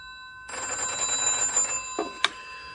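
A telephone bell rings in a bachelor apartment off Pall Mall in a radio drama, one sustained bright trill that begins after a quiet moment, followed by a short rustle and a sharp click.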